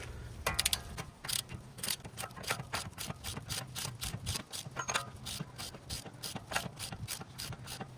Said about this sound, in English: now we torque the axle bolt down to 151 foot-pounds of torque